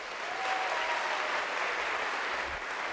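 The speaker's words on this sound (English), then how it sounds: "let's give a big cheer to our athletic director" A large crowd of new university students claps and cheers at a welcome assembly, a dense, even roar of applause that stays loud and steady throughout.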